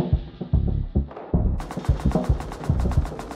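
Rapid bursts of AK rifle fire in a first-person shooter video game, repeated sharp shots in quick rhythmic strings, loud and close, with no talking.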